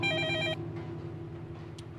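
A telephone rings with a bright, trilling electronic ring during a horror game, loud and near at first and then cut off, followed by low background hum.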